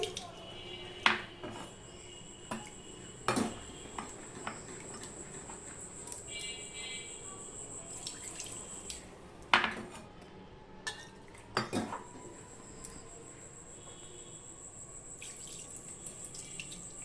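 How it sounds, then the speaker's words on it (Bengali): Gobindobhog rice being washed in a bowl in a home kitchen, with water running from a tap, swishing and being poured off, scattered clinks of dishes and a few sharper knocks, no speech. "এই গোবিন্দভোগ চালটা আমি ধুয়ে নেব দু তিনবার জল পাল্টে পাল্টে আমি জল ফেলে দিচ্ছি"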